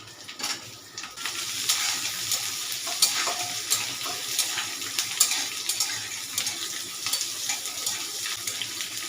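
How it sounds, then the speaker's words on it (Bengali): Spine gourd seeds are stirred as they fry in a pan, with a crackling sizzle and repeated scraping strokes in an uneven rhythm, close and moderately loud, with no speech. "এটাকেও আমি লাল লাল করে ভাজি দেখো"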